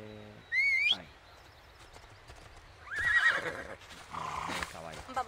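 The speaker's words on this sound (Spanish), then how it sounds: "Caballo." Horse in a video game whinnying twice, a loud close neigh followed by a longer one, with soft hoof clip-clop and game sounds between.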